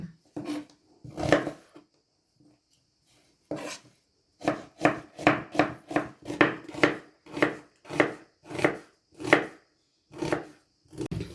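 A knife chopping fresh dill on a cutting board in a kitchen, a few isolated cuts, a pause, then a fast run of about a dozen crisp, evenly spaced chops, close and clear with no talking.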